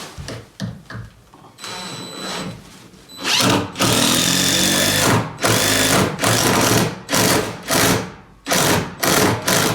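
A power drill drives structural screws into sheet metal at a cabin build in deep cold, a loud close whirring in repeated bursts that rise and cut off, with short pauses between runs.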